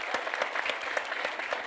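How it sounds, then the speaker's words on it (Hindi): Strong, steady applause from the audience at a Bollywood film promotional event for Good Newwz, dense and continuous with rhythmic claps throughout. "इनको मैं चाहूंगा पहले तो एक बार जोरदार तालियां बजाएं"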